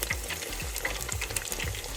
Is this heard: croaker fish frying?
yes